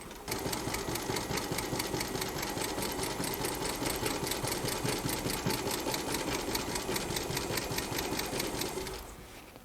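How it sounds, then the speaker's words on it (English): A big walking foot sewing machine stitches a leather cushion with a fast, steady mechanical chatter of needle strokes, loud and close. It runs continuously, then slows and stops near the end. "That's the part that a household machine would really have trouble with, but no problem with a big walking foot."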